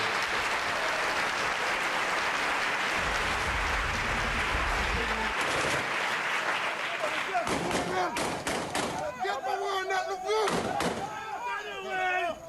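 A live stage show audience claps in a long, dense burst of applause at an event, loud and sustained, with a voice speaking over it toward the end.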